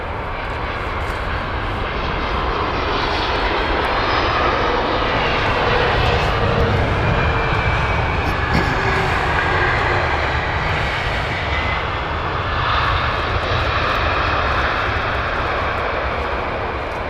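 A Boeing 787-9 airliner arriving from Jeddah roars steadily overhead on its approach to land at Heathrow, a loud, continuous broadband engine rumble and whine that holds strong for the whole stretch without letup.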